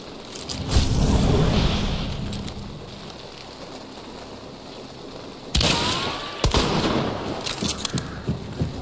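Bursts of gunfire in a shooting video game, a dense volley early on, then sharp rapid shots and cracks after a quieter stretch.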